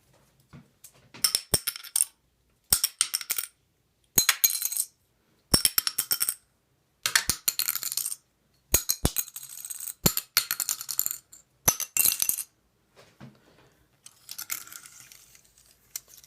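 Heavier-gauge plastic guitar picks clatter into a sink in repeated bursts of bright rattling, about nine quick clusters with short silences between, then a softer scattered tumble at the end.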